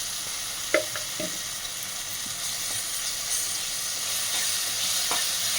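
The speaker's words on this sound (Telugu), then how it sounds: "పచ్చి వాసన పోయే వరకు ఫ్రై చేసుకోవాలి" Ginger garlic paste frying in hot oil for a mushroom curry, a steady broadband sizzle with a few soft clicks of stirring near the start.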